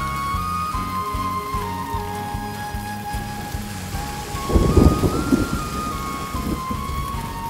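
Steady rain pours down while a deep rumble of thunder swells midway through, with a sustained tonal drone running beneath the downpour.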